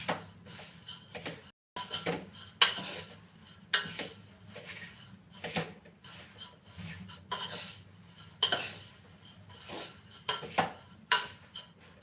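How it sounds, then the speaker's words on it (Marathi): Thin poha flakes stirred quickly in a pan while dry-roasting them for chivda. Rapid, repeated scraping strokes and light metallic clatter of spoon against pan come in uneven bursts, fairly loud and close, with no talking. "खालनं लगेच जळतात पोहे त्यामुळे भरभर हलवायचा पोहे भरपूर हलवायचे"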